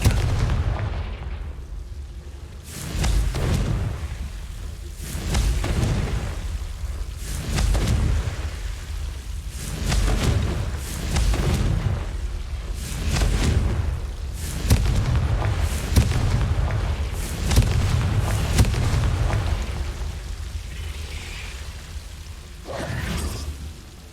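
Repeated Confringo fire-spell explosions in the game Hogwarts Legacy, a steady series of booming blasts roughly every second or two over continuous low rumble, with no talking.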